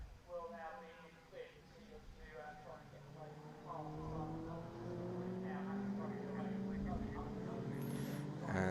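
Race cars, including Mazda MX-5s, come onto a short straight on a circuit, their engines rising and whining in pitch as they pass, heard underneath continuous race commentary.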